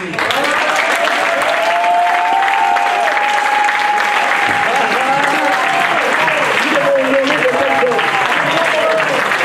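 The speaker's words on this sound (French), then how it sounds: "Ah là, qu'on puisse applaudir." A church congregation applauds their pastor with loud, sustained clapping and cheering that stays full throughout while a voice calls out over the crowd.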